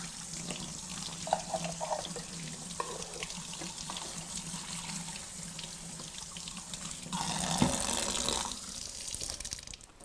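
Winter greens rinsed under a running kitchen tap, a soft watery trickle and splashing with faint handling noises, swelling into a louder, fuller gush of running water near the end.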